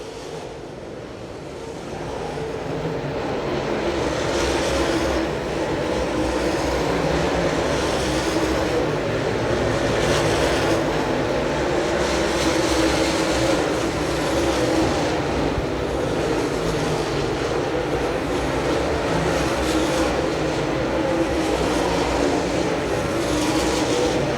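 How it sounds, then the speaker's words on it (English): Super late model race car with a CT 525 engine practicing at Dixie Speedway, a loud continuous engine roar rising after a couple of seconds and holding steady as it circles the dirt track, with other cars blending in. "That's one of those CT 525 new generation engines."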